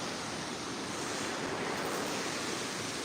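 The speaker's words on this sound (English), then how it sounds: "The sound of the water is calming." Steady rushing water from a small river in a park flows continuously at close range, a dense, even wash with no voices over it.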